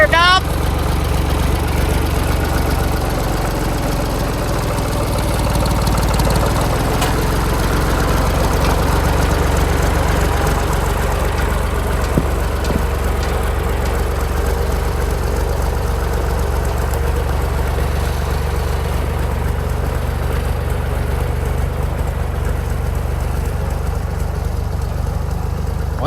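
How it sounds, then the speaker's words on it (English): A farm tractor's engine runs at a steady, loud, low drone throughout, with a slight rise in pitch early on and no clear pauses. "Now let's see if I can remember how to drive a tractor."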